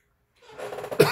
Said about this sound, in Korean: 이 기침이 계속 나네.